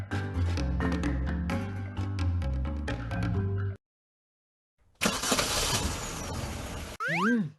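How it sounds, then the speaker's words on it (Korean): In the Trickcal Revive video game, an engine revs and rumbles loudly indoors, bursting in after a brief silence, layered over game music with cartoonish sound effects. "어째서 실내에서 엔진 소리가?"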